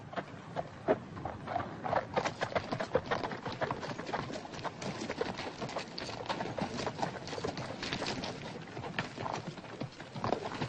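Horse hooves clip-clop in a quick, uneven rhythm on hard ground, continuous and moderately loud with a hiss of background noise.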